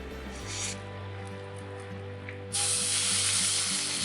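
Sauce for a low country boil simmering on a griddle gives a steady, close sizzling hiss that swells louder partway through, under a low steady hum.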